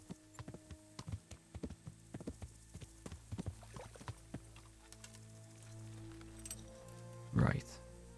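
Horse hooves clop at a steady walking rhythm in the medieval game Kingdom Come: Deliverance, a regular series of close, distinct thuds that slow near the end and give way to a brief louder knock.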